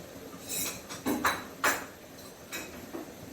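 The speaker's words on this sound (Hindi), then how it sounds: "अब इसको अच्छी तरह मिक्स करूंगी।" Chicken soup is mixed in a pot with a utensil, producing a handful of quiet metallic clinks and taps against the pot, irregular and close.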